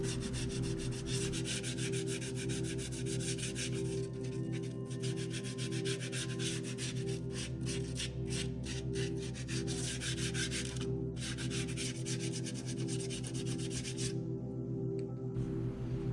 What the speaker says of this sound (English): Then I used some sandpaper to smooth it out.